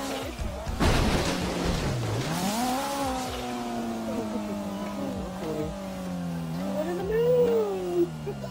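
A car in the GTA video game drives and revs hard, its engine tone climbing and falling through repeated gear shifts, loud and close, with a sharp bang near the start and no talk.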